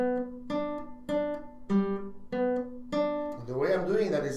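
Guitar chords strummed in G with the strings stopped by a finger of the right hand, six short separate strums in a steady beat, close, followed by a voice talking at the end.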